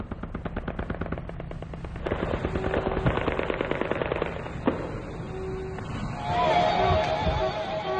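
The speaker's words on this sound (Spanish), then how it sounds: "el bombardeo realizado por la artillería, en este caso, por una batería del grupo de artillería" Rapid bursts of automatic gunfire crackle in steady rhythmic volleys during a NATO military exercise with an artillery bombardment. A sharp louder report cuts in partway through, and a rougher burst of firing comes toward the end.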